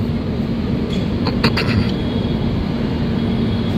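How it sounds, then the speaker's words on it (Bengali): Rupasi Bangla Express pulling out of Adra Junction, a steady low rumble of rolling wagons with a few brief metallic squeals and clicks near the start, continuous and fairly close. "আমাদের ট্রেন আদ্রা জংশন থেকে ছাড়লো"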